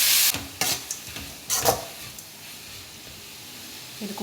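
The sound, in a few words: stirring chicken filling with chilli flakes in a pan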